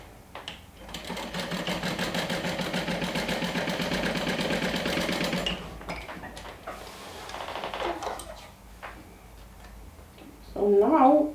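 Sewing machine stitches the bottom seam of a fabric wand holder in a steady rapid run of needle strokes, then stops; softer handling noises follow and a brief voice speaks at the end.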